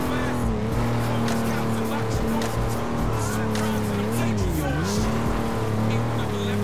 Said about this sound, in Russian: Так, мотор захлебывается, слышим, слышим.